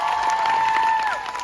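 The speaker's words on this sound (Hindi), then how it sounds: "एक बार अपने तालियां मार दो यार" A college fest crowd at a medical college in Chandigarh claps and cheers in a short, loud burst, with a sustained tonal whistle or shout riding over the noise.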